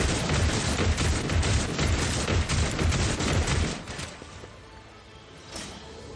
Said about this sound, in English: Yeah, I guess I'm gonna shoot you?